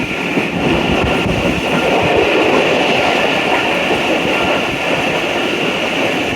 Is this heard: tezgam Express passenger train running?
yes